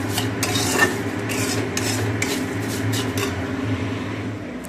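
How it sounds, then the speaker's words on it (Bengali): Vermicelli frying in a pan until reddish, a steady, close rasping scrape of stirring over a constant low hum, with no voices. "শিমুইটা ভেজে নিলাম লাল লাল করে"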